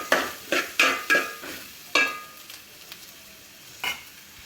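Sliced onion sautés in a pan for Kerala-style crab curry, with about six distinct spatula scrapes and stirs in quick succession, then a pause and one more stroke, over a faint, low sizzle close by.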